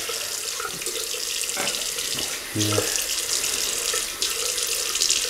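Tap water runs steadily into a sink during a wet shave with Old Spice, a continuous close splashing hiss with a few brief clinks and a short murmured word.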